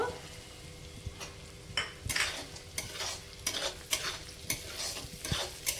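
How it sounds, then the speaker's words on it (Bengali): Cashews and raisins frying with vegetables in a pan, with soft sizzling under several sharp scraping stirs of a spoon against the metal, fairly quiet and close, no talking. "কাজু কিশমিশগুলো একটু ভালো করে ভেজে নিতে হবে।"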